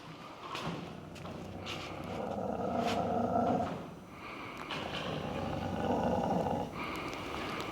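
A fear-aggressive dog growling low and steadily in a continuous rumble with swells, close by, with panting mixed in and no talk over it.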